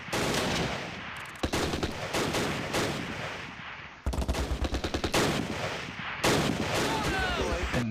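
Machine gun fire in the Close Combat wargame at Arnhem rattles in rapid, dense bursts, sharp and loud, with broken strings of shots and short gaps between volleys.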